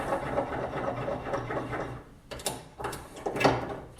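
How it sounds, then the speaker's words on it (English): A Remington case trimmer working on resized .223 Remington brass cartridge cases, giving steady close mechanical whirring and grinding with sharper scraping bursts toward the end. "after we resize the brass, we want to case trim it. So we're going to go ahead and put in the Remington case trimmer."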